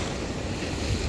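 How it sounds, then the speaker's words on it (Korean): Ocean waves pound against coastal rocks at low tide, a loud, dense roar of surf and wind buffeting the microphone, with no voices. "물은 다 빠졌는데 파도는 빵빵 때려요."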